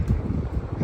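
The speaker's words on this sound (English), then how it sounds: "It's a little windy." Wind gusts across the microphone outdoors at night during food delivery rounds, giving a short, loud, rumbling buffet with no speech.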